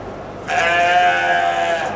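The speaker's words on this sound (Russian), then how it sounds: "И называется нельвайская порода овцы." A Nelvai breed sheep bleats at a livestock show, one loud, sustained wavering call starting after a short quiet moment and holding for over a second, close by.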